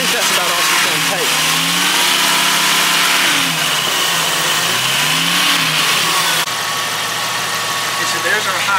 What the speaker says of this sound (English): Can you rev it a little bit?